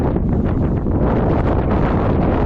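Steady, loud wind buffeting the microphone, a continuous rumbling roar with no other sounds.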